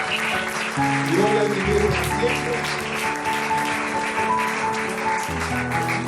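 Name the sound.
church congregation applauding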